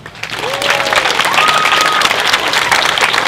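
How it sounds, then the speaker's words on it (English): At an outdoor vigil for Charlottesville, a crowd breaks into loud, sustained applause with scattered whoops and cheers. "Give those people a big hand."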